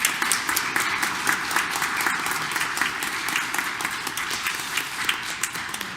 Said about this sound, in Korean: 우리 격려의 박수 한번 보내드릴까요?